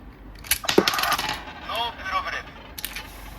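A DX Jettoras Engine Sentai Go-onger toy gives short electronic sound effects and chimes when its button is pressed, with some clicking and a voice speaking over parts of it.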